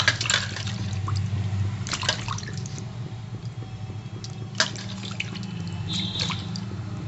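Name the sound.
washing silver pomfret fish in water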